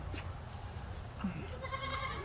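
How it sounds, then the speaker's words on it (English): A goat bleats at a zoo, one short wavering cry rising near the end over a low, steady background hum. "Oh, it's a mad goat."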